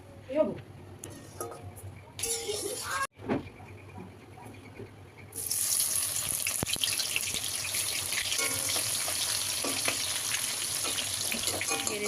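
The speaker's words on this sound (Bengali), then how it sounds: "এখন আমি এখানে বেরেস্তাটা ভেজে নেবো" Onions frying into birista for a home-made biryani: after some quieter kitchen sounds, a loud, steady sizzle takes over for the second half and crackles on without pause. A faint voice may be present.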